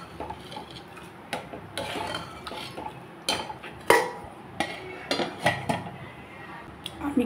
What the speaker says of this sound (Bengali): এখন আমি নাড়িয়ে চাড়িয়ে রেখে দেব